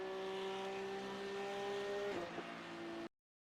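Porsche 992 Cup race car in iRacing running flat out through the final corner at Zolder, a steady high-pitched engine drone holding constant tone before a brief dip as it lifts and cuts off abruptly.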